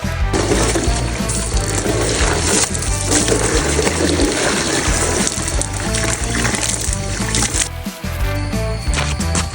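Water runs steadily and loudly over a skateboard as it is washed, a continuous rushing spray that barely lets up for the whole stretch.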